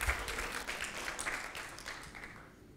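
A short burst of audience applause at a tech conference talk, many hands clapping together, fading off toward the end.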